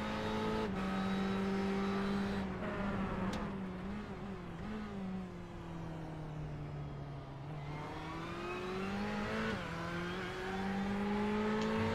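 Ferrari Challenge race car engine heard onboard from a roll bar camera during a lap of the Kansas road course in a racing game, a loud steady drone that rises and falls with gear changes and throttle, no talking.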